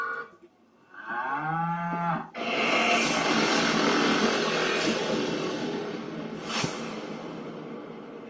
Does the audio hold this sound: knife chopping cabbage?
no